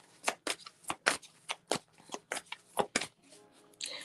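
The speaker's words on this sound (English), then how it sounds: "so I'm going to shuffle again." Tarot cards are shuffled in quick, crisp riffles and slaps, about a dozen sharp bursts in a steady rhythm, close and clear.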